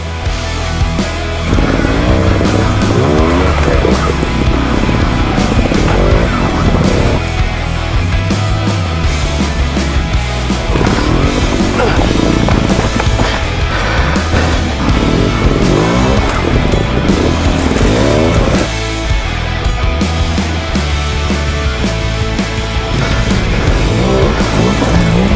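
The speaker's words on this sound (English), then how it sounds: "This is the Gas trials bike that broke my leg." A Gas Gas Contact 250 trials motorcycle engine runs steadily and loudly throughout, close by, with no one speaking.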